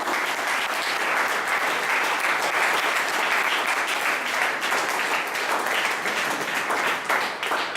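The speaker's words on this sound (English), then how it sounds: "can we give a huge round of applause for the next speaker" A Toastmasters audience applauds the next speaker with sustained, dense clapping from many hands that stays steady and fairly loud for several seconds.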